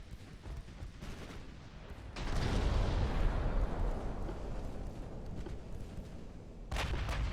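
Naval ship turrets fire in Ultimate Admiral: Dreadnoughts, a naval battle game: a broad, rumbling boom swells up and rolls on for several seconds, followed by another loud blast, with no voices.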